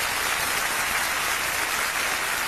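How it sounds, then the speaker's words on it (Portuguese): Congregation at a gospel church service claps for Jesus of Nazareth, a loud, dense burst of applause filling the room for a couple of seconds without speech. "Um aplauso para Jesus de Nazaré."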